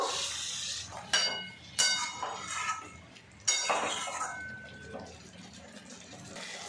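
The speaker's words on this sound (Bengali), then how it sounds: "মিক্সিং বোল ধোয়া জল অল্প একটু দিয়ে দেব।" Mixing-bowl rinse water goes into a pan of potatoes and soybean chunks being fried with spices, heard as a few short splashing pours with bright metallic clinks of a bowl and utensils, close by.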